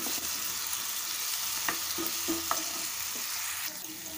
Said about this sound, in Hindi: अच्छे से हम इसे भूनेंगे ताकि जो इसकी कच्ची स्मेल होती है ना वो चले जाए